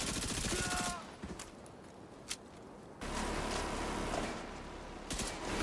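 An automated turret in The Division 2 fires in fast sustained bursts, a loud rattling stream that cuts off, leaves a short gap with a single sharp crack, then resumes at full intensity.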